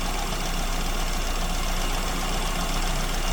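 An aircraft piston engine idles near 900 RPM with a too-lean mixture, giving a steady, loud, continuous rumbling drone with fine rapid knocking and no talk.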